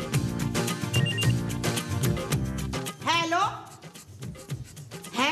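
A telephone rings repeatedly in a rapid electronic trill during a Pakistani sitcom scene, with background music and people talking around it.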